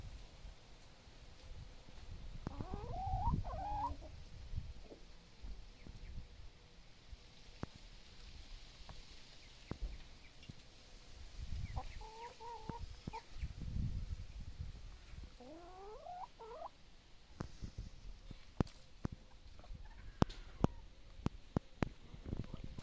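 Wyandotte chickens, including a broody hen, cluck in a coop: a few separate bursts of soft, throaty calls, with some rustling and scattered clicks between them.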